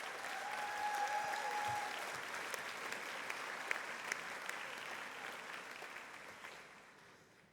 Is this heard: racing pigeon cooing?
no